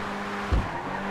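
A car in GTA 5 on the Nürburgring GP circuit slides sideways, with a brief tire skid and thump over a steady engine drone.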